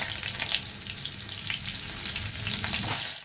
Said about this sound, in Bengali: ওই তেলেই পটলগুলো একটু নেড়ে নেব।